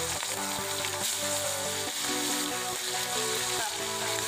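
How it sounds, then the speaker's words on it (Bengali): Fish fry in hot mustard-seasoned oil in a wok with a steady, dense crackling sizzle that holds throughout. A tonal background runs underneath the frying. "তেলগুলো গরম হলেই আমরা দিলাম মাছ।"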